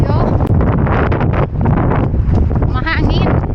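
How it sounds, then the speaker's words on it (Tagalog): Strong wind buffets the microphone in gusty, rumbling bursts while a runner moves through a city, loud and close throughout. "Mahangin."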